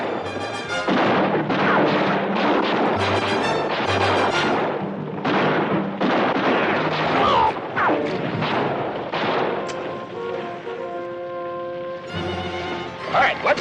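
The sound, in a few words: gunfire from charging men in a western battle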